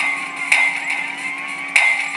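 A hammer striking a door in a video game: two sharp metallic impacts about a second apart, each ringing out over a steady tonal game hum, no talk.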